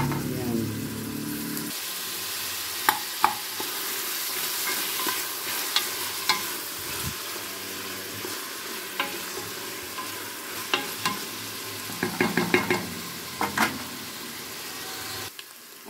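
Onion and garlic sautéing in a hot pan, a continuous close sizzle with intermittent scraping and clacking of a spatula against the pan, heaviest near the end, without speech.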